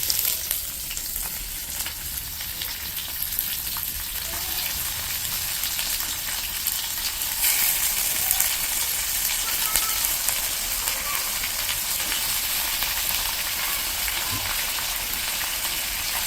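Chicken pieces fry with browned onions in a pan, village-style, making a dense, continuous sizzle and crackle that holds steady throughout, close and fairly loud with occasional stirring scrapes.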